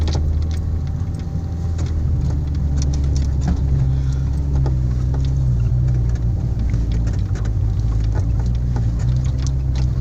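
A car pulls off a riverbank in first gear, its engine a steady low rumble that stays loud and close throughout with no talking.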